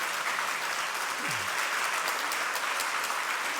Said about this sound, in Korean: 우리 박수로 환영해 주시면 감사하겠습니다